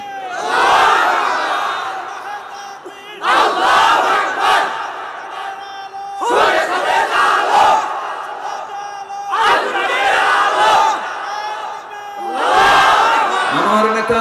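A large crowd at a Bengali Islamic sermon gathering chants slogans in loud, rhythmic bursts, five surges of massed voices separated by brief pauses.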